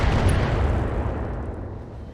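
Missiles launched in the BattleTech mech combat game, a dense rumbling barrage of booming fire that stays loud throughout and fades slightly toward the end, with no talking.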